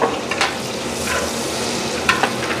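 Several kilograms of onions sizzle and fry in a large cooking pot while being stirred, a steady bright crackle broken by a few scraping stirs, close and alone without talk.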